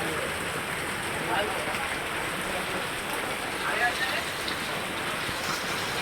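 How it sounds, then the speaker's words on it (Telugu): Heavy rain pours onto flooded town roads in Kollapur on a Sunday evening, a steady dense hiss of water hitting the surface throughout, fairly loud and continuous. "కొల్లాపూర్లో భారీ వర్షం"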